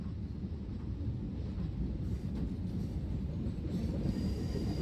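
Train braking to a stop in an Indian train simulator game, driving the Amritsar–Howrah Mail: a steady, dense low rumble of rolling wheels and carriages that holds at an even loudness throughout, with no voices.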